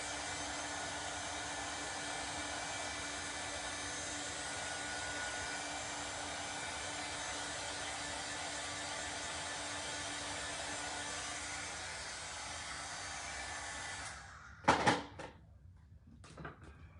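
A hair dryer blows a steady, even whoosh over a craft transfer for about fourteen seconds, then switches off, followed by a few brief handling clatters and knocks.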